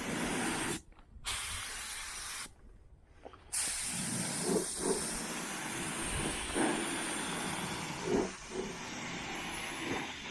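A cheap $10 Harbor Freight spray gun laying primer on a 1981 Chevrolet Silverado, heard as a loud, close, steady hiss broken by two short pauses between passes.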